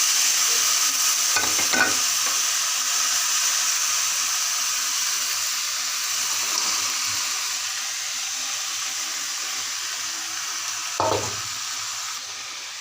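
Cauliflower and mixed vegetables sizzle and fry in a pan, a continuous loud hiss with scraping stirring strokes near the start and again toward the end.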